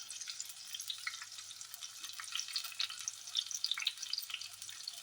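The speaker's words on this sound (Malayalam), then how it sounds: "എണ്ണ ചൂടായിട്ടുണ്ട് കേട്ടോ എണ്ണയിലേക്ക് ഇട്ട് കൊടുക്കുകയാണ്" Steady crackling sizzle of bitter gourd frying in hot oil, with bright popping spatters throughout, no voices.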